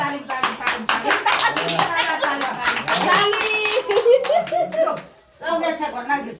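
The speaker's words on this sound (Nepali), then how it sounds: "ताली" A group of people clap their hands in quick, uneven bursts, with voices and light laughter mixed in among the applause.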